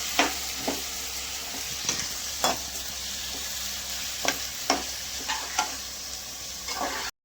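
Tomatoes sauté with salt in a pan for street-shop chutney, a steady close sizzle of frying broken by scattered clicks and scrapes of a spoon stirring, with no talking.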